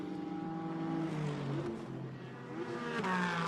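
GT4 race cars, BMW and Porsche, race at Hockenheim, their engines droning and shifting pitch as the cars rev and sweep past at moderate distance.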